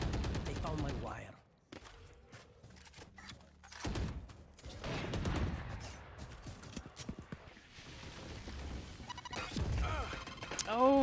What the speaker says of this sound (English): a huge grenade coming out, damaging Zil